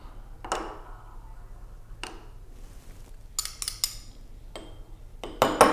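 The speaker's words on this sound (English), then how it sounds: "using 2 spoons, I'm going to scrape the remaining crust off" Two spoons scrape the floating crust of coffee grounds off cupping bowls, making a few sparse metallic clinks and soft scrapes with quiet gaps, close up and moderately faint, with a busier run of clinks at the end.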